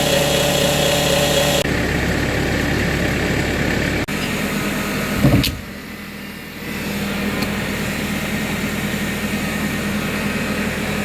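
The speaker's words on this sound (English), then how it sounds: "Started the combine up, ran for a bit, sputtered and stopped." Combine harvester engine running with a fuel problem, a steady loud droning hum that dips briefly midway with a short knock, then continues evenly, no talk.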